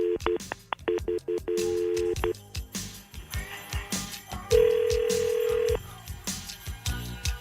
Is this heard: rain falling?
no